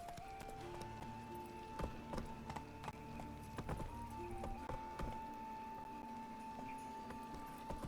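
Hooves of the horse Roach clip-clop in a steady galloping rhythm in The Witcher 3, fairly quiet, set against a sustained musical tone and ambient game sounds.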